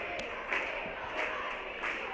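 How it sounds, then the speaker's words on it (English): Crowd noise at a girls' high school basketball quarterfinal, with cheerleaders rallying the gym; a steady, fairly faint murmur of voices with a few brief swells of cheering. "Here we have our cheerleaders to the left-hand side, trying to get the crowd cheered and excited for this ball game."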